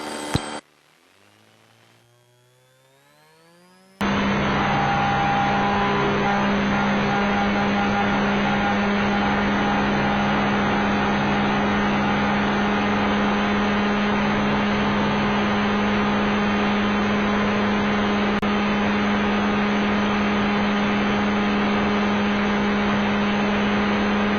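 Steady, loud engine drone of a Wag-Aero 2+2 light aircraft during its takeoff roll on runway 28, heard from inside the cabin, with a strong constant hum and tonal lines after a brief quiet start.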